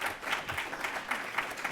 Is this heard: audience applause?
yes